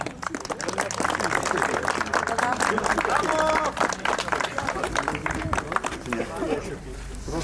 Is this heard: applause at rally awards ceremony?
yes